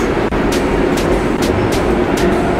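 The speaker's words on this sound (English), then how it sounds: "Our train is coming." Train rumbling into a station in Luxembourg City, a steady loud roar with faint rhythmic clatter, no talking.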